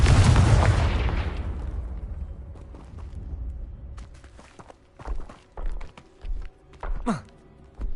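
A loud magical spell blast in the video game Hogwarts Legacy booms and rumbles out over about two seconds, followed by a series of softer thuds and pops that come roughly once a second.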